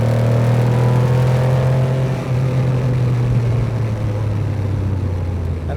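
A 1979 Porsche 911 SC flat-six pulls hard in third gear, its loud, steady engine note climbing smoothly as the car accelerates, with no talking over it.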